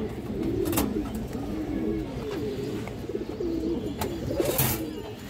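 Pigeons coo repeatedly nearby in soft rolling phrases, with a couple of sharp rustles or wing flicks breaking in between.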